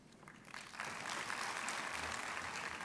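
Audience at an academic valedictory session gives a big round of applause for dignitaries, swelling from light clapping into a dense, sustained roar of many hands.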